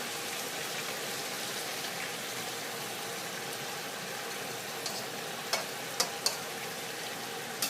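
Beaten egg for a crispy omelette frying in hot oil, giving a soft, steady crackling sizzle throughout, with a few sharp clicks near the end.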